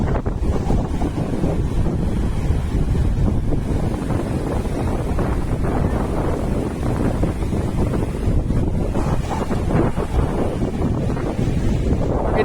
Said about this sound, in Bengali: যতদূর দেখতে পাচ্ছি তোমরা এখান থেকে দারুণ ঢেউ আসছে।